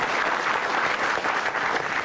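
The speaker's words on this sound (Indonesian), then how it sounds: "langsung aja tepuk tangan yang meriah untuk Ihsan Nur Akbar" A studio audience at a televised stand-up comedy show claps for a comedian coming on stage, a bright, continuous wash of applause at steady loudness.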